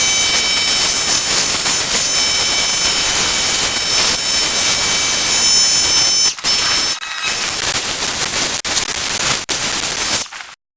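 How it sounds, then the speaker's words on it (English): A pressure washer rinses loose dirt off a car, giving a loud, steady, close hiss of spray that runs almost without a break and cuts out briefly twice near the end. "that was the quick rinse off of trying to remove some loose contaminants"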